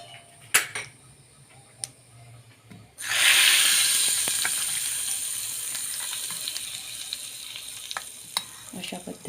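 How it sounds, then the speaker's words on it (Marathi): Hot cumin, mustard seed and asafoetida tempering poured onto chutney, bursting into a loud, close sizzle after a few quiet clicks, then settling into a steady crackling hiss that slowly fades. "आणि आता ही फोडणी छान चटणीवरती घालून घेते."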